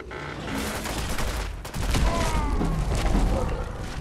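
A Pancor Jackhammer shotgun mod fires in Fallout 4, a loud, dense volley of rapid booming shots with a heavier blast partway through.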